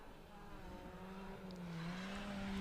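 A Ford Fiesta rally car on a rally stage at Castle O'er approaches with a steady, rising engine drone that grows louder toward the end, heard alone at moderate distance.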